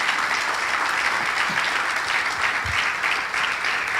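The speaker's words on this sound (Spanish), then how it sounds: "¿Por qué no le das un aplauso a Jesucristo esta mañana?" A church congregation at a morning service applauds, with a continuous, dense wash of clapping at a steady level and a few faint low thumps mixed in, with no voices.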